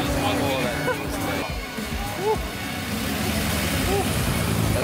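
Car exhausts rumble and idle at the Nokia automotive show, a low engine drone throughout with occasional revs, mixed with crowd chatter and nearby voices.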